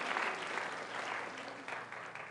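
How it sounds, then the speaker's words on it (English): An audience applauds a volunteer named Michael at a mental math show, a dense, even wash of clapping from a crowd, fairly faint and distant, lasting a couple of seconds. "Let's give Michael a nice round of applause."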